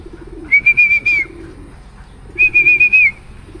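Racing pigeons returning to the loft after a training toss, with loud, close whistle-like calls in two clear bursts of repeated notes over a low background murmur.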